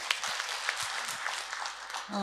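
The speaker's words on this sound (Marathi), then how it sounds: "आम्ही एकदा परत टाळ्या वाजवूयात" An audience at a farmers' poetry gathering claps briefly in a soft, fairly distant patter that fades out as a voice starts at the very end.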